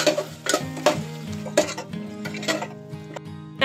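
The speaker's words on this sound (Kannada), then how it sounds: "ಮೊಸರು ಹಾಕೊಂಡು ಇನ್ನೊಂದ್ಸರಿ ಚೆನ್ನಾಗಿ ಮಿಕ್ಸ್ ಮಾಡ್ಕೊಳ್ಳೋಣ" Mushroom pulav being stirred with curd in a cooking pot at home, a run of scraping, clinking spoon-against-pot strokes in an irregular rhythm, close and fairly loud, with light sizzling underneath.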